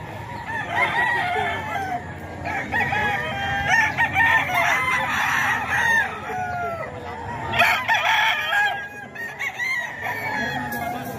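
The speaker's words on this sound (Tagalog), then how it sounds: "Ito yung mga manok ni Boss Russell mga kaidol, oh." Many roosters and chickens kept as fighting cocks in Tondo crow and cluck together in a busy overlapping chorus close by, with occasional faint human voices in the background.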